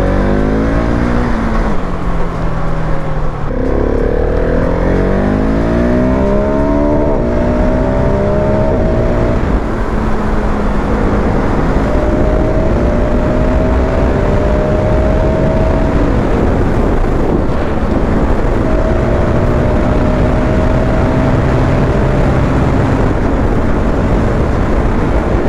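A 2022 Husqvarna 701 Supermoto single-cylinder motorcycle being ridden, engine droning and rising through gears with audible shifts, steady wind roar buffeting the microphone throughout, no talk.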